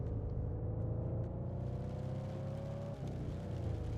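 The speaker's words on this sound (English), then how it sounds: "Car start up." Car engine in the storm-chasing video game OUTBRK idling and running after starting up, a steady close low rumble with a rising whir, alone without talk.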